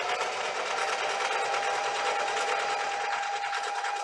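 A sewing machine runs continuously at a steady, fast stitching rhythm, close and fairly loud, with a constant whirring motor hum throughout and no voices.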